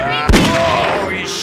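A single sharp gunshot cracks out once, near and loud, in the Western game Grizzly Gulch, then fades under a sustained tonal background.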